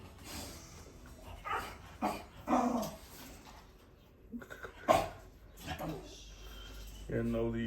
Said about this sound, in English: you trying to figure out who's barking